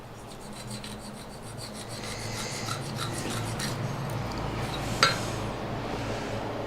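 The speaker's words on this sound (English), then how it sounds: "Come in here and just scribe that in." A steel scribe scratches a line across a Damascus steel integral hunting knife near the bolster, a steady close rasping rub with one sharper metallic tick partway through.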